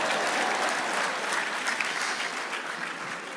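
An audience at a stand-up comedy show by a Nigerian comedian claps steadily in dense, sustained applause, fairly loud throughout and easing slightly near the end.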